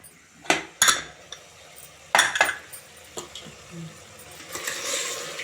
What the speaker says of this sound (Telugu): టమాటా ముక్కలు కూడా మంచిగా కలుపుదాం.